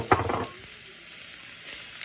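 Hot oil sizzles in frying pans heated for shepherd's pie, with a brief louder spatter at the start settling into a faint, steady hiss.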